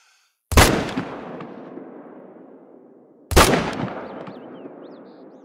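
Two sharp rifle shots ring out in theHunter: Call of the Wild, each a loud crack followed by a long rolling echo that fades away, spaced about three seconds apart.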